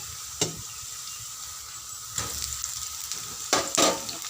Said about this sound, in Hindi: अभी प्याज लतल हूँ